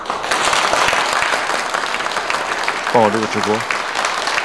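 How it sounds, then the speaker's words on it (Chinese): A school award ceremony audience claps loudly and continuously in a dense, steady burst, then the applause gives way to a brief spoken phrase near the end. "那现在就请你们用你们最最热烈的掌声"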